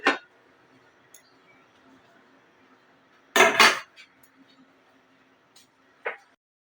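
Metal pots and utensils clink and clatter as a lid goes onto a cooking pot of meat for biryani: one sharp clink at the start, a louder rattling clatter midway, then a final short knock, with quiet stretches between.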